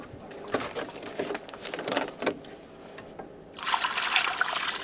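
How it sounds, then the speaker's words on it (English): Water poured into a pot while cooking, a gurgling trickle that starts out irregular and swells into a steadier, louder fill near the end, close by with no talk. "then I add some water."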